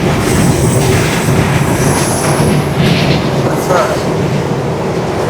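A Metro Rail train rumbles past loud and close, wheels clattering with a faint metallic squeal over a dense roar that holds steady for the whole stretch.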